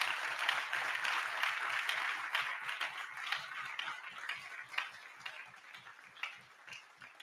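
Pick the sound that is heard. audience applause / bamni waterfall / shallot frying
audience applause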